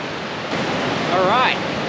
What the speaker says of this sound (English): we've made it down here to the junction of Hellroaring Creek and the Yellowstone River